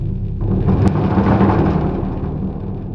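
A sustained, rumbling roll of soft mallets on a large drum, a continuous low, booming wash that swells slightly and then tapers off.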